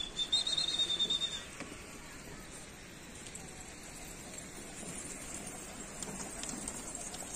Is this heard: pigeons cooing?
yes